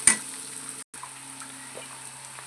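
Onions frying in a pan for a gongura prawn curry, a steady soft sizzle held at low level throughout, with a brief dropout partway and no talking.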